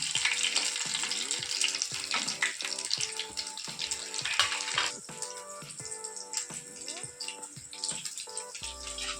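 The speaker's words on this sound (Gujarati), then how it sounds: "એને સેલો ફ્રાય જ કરીશું એને તળવાની જવું જરૂર નહીં પડે" Raw mango cutlets shallow-fry in oil with a soft sizzle, broken by repeated clinks and taps of a utensil against the pan at an uneven rhythm.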